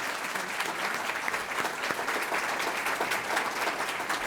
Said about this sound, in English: let's give them a big round of applause first